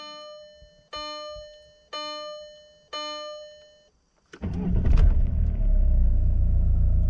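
A Skoda Superb with a 1.9 TDI diesel engine: a few slow rhythmic ticking chimes, then the engine cranks and starts, settling into a loud, steady, close diesel idle rumble.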